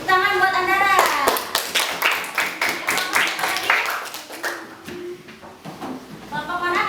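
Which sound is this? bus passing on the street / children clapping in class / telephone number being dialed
children clapping in class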